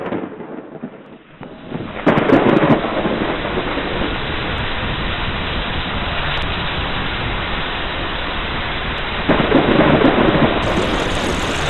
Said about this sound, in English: forest awaits the first drops of rain.